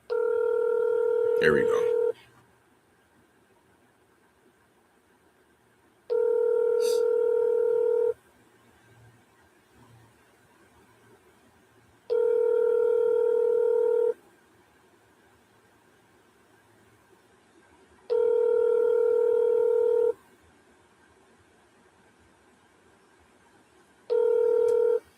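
A telephone call goes out: a brief burst of dialing tones, then a repeating ringback tone in evenly spaced two-second pulses with quiet gaps between, and a voice speaking briefly early on.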